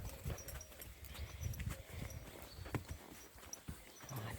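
Pony hooves clip-clop on soft ground near obstacles in a riding session, an uneven run of dull thuds and close irregular steps with light rustling, no talk.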